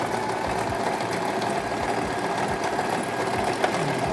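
A sewing machine stitches fabric, running steadily and a little fast through a back stitch and then a forward stitch, a continuous close mechanical whir with a low rhythmic knock.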